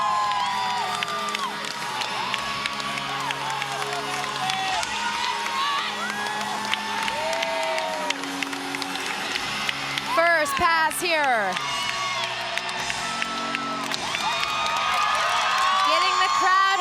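A gymnastics meet crowd cheering and whooping at a floor routine, loud and sustained with shrill shouts, while a commentator talks over it throughout.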